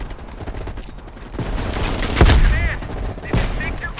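Sniper rifle fire in Call of Duty Black Ops Cold War, a few loud, heavy booming shots spaced about a second apart over a busy combat backdrop with faint distant chatter.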